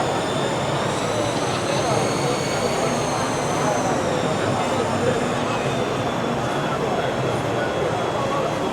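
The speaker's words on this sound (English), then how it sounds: "Get used to the sound of those whirring propellers, guys, because that was the theme tune to the UASE show." The propellers of a large drone at a drone expo whir in a steady, loud, broadband roar with faint tonal harmonics, close by and continuous, while voices talk underneath.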